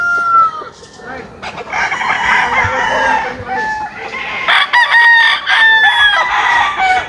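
Several gamecock roosters crow one after another, some near and some farther off, amid clucking and general farmyard bustle.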